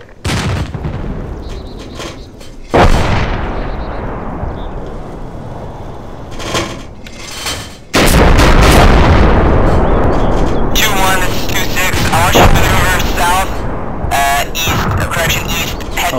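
Mortar rounds explode in the military video game Arma 2, several loud booms that burst at irregular intervals, each followed by a rumbling tail, while someone talks over them.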